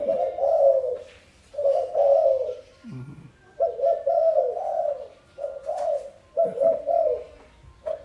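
A spotted dove coos in repeated soft, hollow phrases, each a short rolling call, with faint chirps from other birds in the background.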